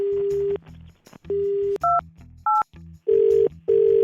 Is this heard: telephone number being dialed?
yes